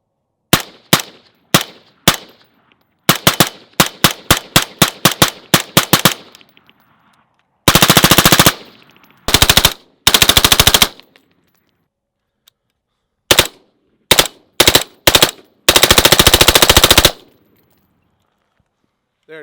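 A suppressed rifle fires through a Surefire RC3 can, with rapid strings of sharp, loud reports, single shots and bursts, separated by short pauses, with no talking.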